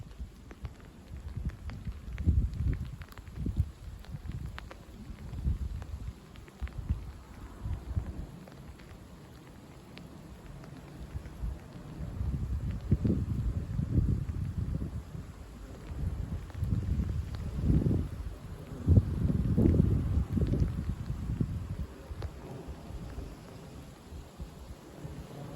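Rain and gusty northwest wind sweep through during a nighttime cold front, with heavy low rumbling gusts rising and falling in waves over a steady wash of rainfall, no voices.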